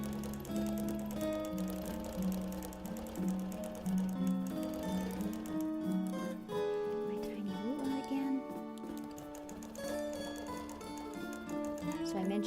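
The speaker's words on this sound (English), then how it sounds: "now we're going to edge stitch around this lovely little shoe and flower" A quilting machine edge-stitches around a small appliqué shoe and flower, its steady rapid mechanical stitching running continuously under a prominent music bed.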